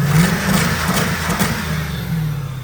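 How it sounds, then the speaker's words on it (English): A V8 engine in a rear-wheel-drive car with drive-by-cable throttle rumbles steadily with a deep, throaty tone, rising slightly in rev at moments, close by and loud, with no talking. "It is the last year of the drive-by cable, so I can actually rev it from under the hood."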